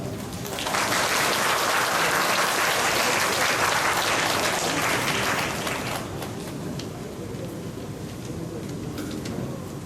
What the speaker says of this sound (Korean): 우리 나오실 때 박수로 환영해 주시기 바랍니다.